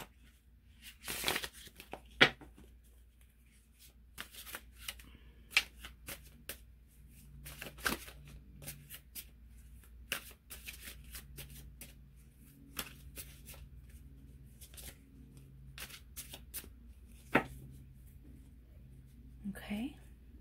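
A Mystic Moons oracle card deck being shuffled by hand, with repeated crisp riffles and soft slaps of cards between quiet pauses, close and intimate, while a person talks softly.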